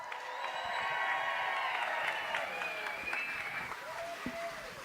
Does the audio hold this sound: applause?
yes